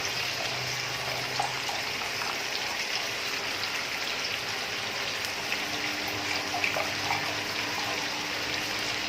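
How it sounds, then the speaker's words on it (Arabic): Water is poured into a pan of chicken liver cooking in a spiced sauce, producing a steady, soft hissing splash that runs continuously and fairly quietly throughout. "هنا مشاهدينا الكرام نزيد لها الماء"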